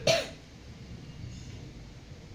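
A single sharp cough bursts out at the start, close and fairly loud, in a quiet room before fading into low background hum.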